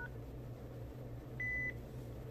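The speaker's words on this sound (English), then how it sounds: "So we'll press the pound key." A single short, steady electronic beep sounds when the pound key is pressed on a locked mobile phone's keypad, lasting about a third of a second over a low, constant background hum.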